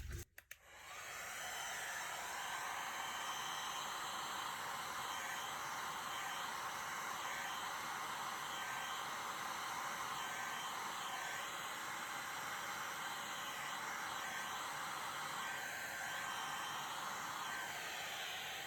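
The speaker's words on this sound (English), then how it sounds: "We're going to give it a little bit of a push with the heat gun." A heat gun blasting hot air over poured resin ocean waves, a loud, steady rushing roar that starts abruptly after a few clicks and keeps going unbroken, close by, with no talk.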